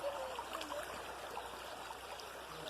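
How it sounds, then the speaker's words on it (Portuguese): Shallow stream water trickles and burbles steadily as people wade through it at a natural swimming spot, a soft continuous flowing wash with no voices. "Estamos andando na água aí,"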